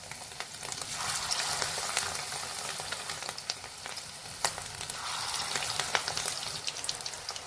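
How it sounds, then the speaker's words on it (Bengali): Fish roe fritters sizzle steadily in hot oil, a dense crackling fry with scattered sharper pops, close and continuous with no talk. "তেল আমার গরম হয়ে গেছে, এবার আমি চামচে করে দিচ্ছি একটা করে।"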